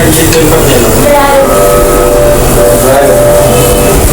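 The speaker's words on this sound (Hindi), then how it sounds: "तो अब सालन को भूनूंगी" Saalan curry being fried in a pot on a gas stove, giving a loud, continuous close-up sizzle with stirring scrapes and a faint steady tonal hum running through it.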